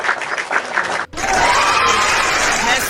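A crowd breaks into loud applause and cheering after a brief lull, with dense clapping and shouts that fill the room and hold steady to the end.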